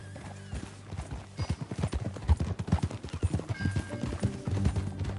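Horse hooves clip-clopping at a steady ride in the Red Dead Redemption II video game, a rhythmic run of close, distinct hoofbeats over a low musical and ambient background.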